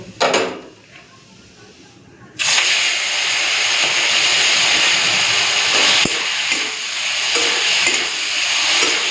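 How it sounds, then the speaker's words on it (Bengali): Prawns frying in hot mustard oil in a home kitchen, a steady loud sizzle that begins abruptly after a brief quieter moment and continues throughout. "তেল গরম হয়ে গেছে এখন আমি এই চিংড়ি মাছগুলোকে ভেজে দেবো"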